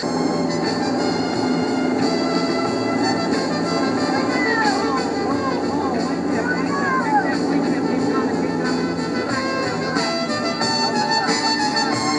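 A small airplane's engine drones steadily during aerobatic maneuvers, a continuous loud roar with shifting pitch, while a person talks over it.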